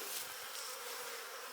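A dense, steady buzz of many honey bees swarming close by at a hive, a continuous droning hum with no voices.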